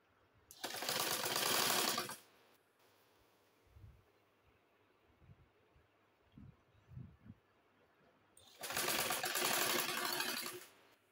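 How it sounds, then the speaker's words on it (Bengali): A sewing machine gathering fabric for a kurti runs in two loud close bursts of about two seconds each, with soft handling knocks of the cloth in between. "নিচের যে কাপড়টা আছে আমি সেই কাপড়টা এখন কুচি করে নিব।"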